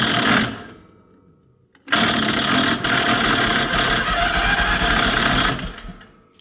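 Worn starter cranking the engine of a Chinese mini skid steer: a short grinding burst, a pause, then a long loud whirring crank of several seconds that cuts off.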